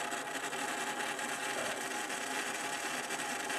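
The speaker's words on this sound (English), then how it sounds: "You can hear the motor going as we do that." A small DC motor under Arduino PWM control whirs with a buzzy, pulsing drone, running steadily and fairly quietly close by with no voices.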